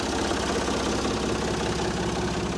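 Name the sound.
backhoe engine idling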